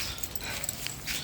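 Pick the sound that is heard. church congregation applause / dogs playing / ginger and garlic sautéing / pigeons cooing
dogs playing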